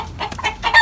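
A hen in a coop gives a couple of short, close clucks in quick succession.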